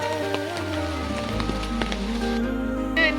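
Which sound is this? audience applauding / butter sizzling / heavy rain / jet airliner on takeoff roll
heavy rain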